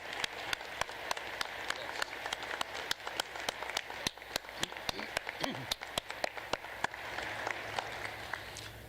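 An audience at a university engineering and business commencement ceremony applauds mothers, a steady patter of claps from many hands heard from some distance, fairly soft and continuous throughout.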